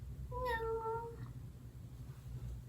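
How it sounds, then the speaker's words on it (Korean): A pet cat gives a single clear, tonal meow close by in a quiet room, followed by low background hum. "그리고 저희 고양이 있어요."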